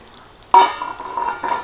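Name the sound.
stirring and frying food in a pan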